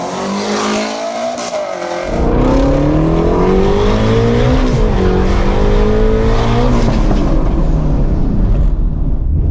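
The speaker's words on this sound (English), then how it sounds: "These 62mm turbos spool up so good and so fast that you barely hear the turbos really get rolling." A twin-turbo Shelby GT350 with 62mm turbos accelerates hard, its engine note rising loud and close through repeated upshifts, with a dense roar and faint whine layered over the exhaust throughout.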